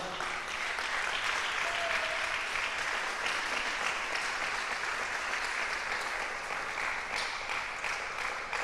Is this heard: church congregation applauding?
yes